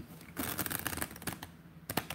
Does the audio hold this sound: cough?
no